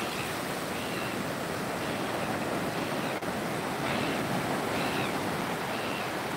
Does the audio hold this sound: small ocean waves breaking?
yes